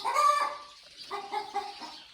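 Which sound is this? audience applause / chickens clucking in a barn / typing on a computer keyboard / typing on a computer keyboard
chickens clucking in a barn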